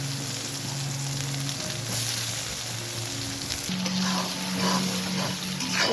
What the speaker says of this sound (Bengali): আমি গরম তেলের মধ্যে পেঁয়াজ কুচি দিয়ে দেবো।